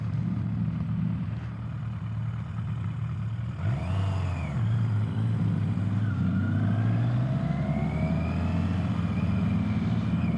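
A Triumph Rocket motorcycle engine rumbles loudly and steadily, its revs swelling and falling as it pulls away and rides past, with no talk over it.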